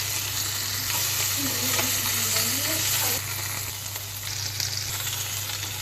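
Small fish frying in hot oil with chopped garlic, chili and broken dried chili, a loud steady sizzle filling the clip with a brief dip midway, no talking.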